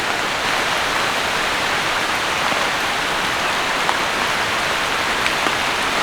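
Pasta boils in a pot of water for semolina pasta, giving a steady, dense bubbling hiss that stays even throughout with no speech.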